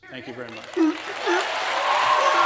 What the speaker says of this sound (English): And then everybody claps.